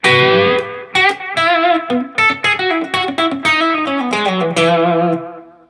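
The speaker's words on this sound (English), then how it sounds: "the most common way to use a delay pedal is to turn it on when you have a solo" An electric guitar solo run through a delay pedal, loud and close, with bright sustained notes and phrases whose repeats smear and trail into one another across a few seconds.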